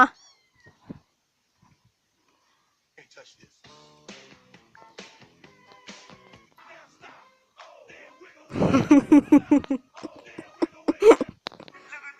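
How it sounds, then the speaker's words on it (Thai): Several cats meowing and wailing, first scattered faint calls, then a loud close burst of overlapping yowls near the end, with people talking and exclaiming among them. "กองทัพแมวนี่วะ"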